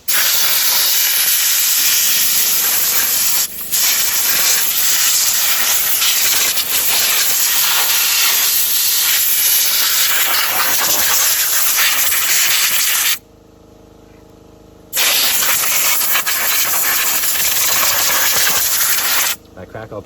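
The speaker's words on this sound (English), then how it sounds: "I mean blow all the crap out of the engine first." Compressed air blasts debris out of the engine bay of a 1995 Dodge Ram 2500 pickup, a loud close hiss held for long stretches with two brief pauses.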